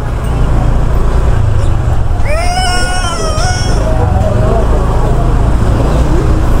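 Road traffic on a street in Taguig rumbles steadily and loudly throughout, while a cat meows plaintively partway through and a voice sounds briefly in the mix.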